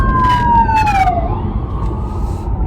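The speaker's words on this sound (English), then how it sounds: "oh, there's a whole ambulance" A loud ambulance siren wails, sweeping downward in pitch as the vehicle passes nearby, over constant low traffic rumble.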